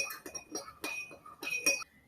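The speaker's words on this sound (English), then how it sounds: "So we'll just keep stirring." A spoon stirring salt into vinegar in a glass gives repeated quick clinks against the glass, a busy irregular run of close, bright taps.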